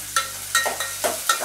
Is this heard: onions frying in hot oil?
yes